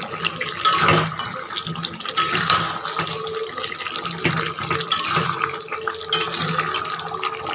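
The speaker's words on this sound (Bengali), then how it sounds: "আমি কিন্তু এখনও চিকেনে জল দিই" Water splashes and sloshes into a pan of cooking kadai chicken curry, a close, irregular pouring and bubbling with scattered clinks throughout.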